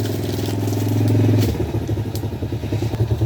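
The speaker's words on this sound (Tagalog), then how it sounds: "maingay yung motor" A motorcycle engine rumbles close by, its steady drone breaking into a choppy, sputtering putter as it slows.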